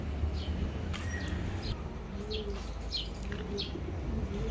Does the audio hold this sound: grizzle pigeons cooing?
yes